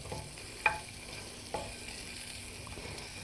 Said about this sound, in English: just stir those around until they're just ever so lightly browned